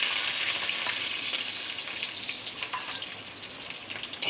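Chopped ginger and garlic hitting hot mustard oil in a pan, an intense close hissing sizzle that starts at full strength and eases slightly over a few seconds, with no voices.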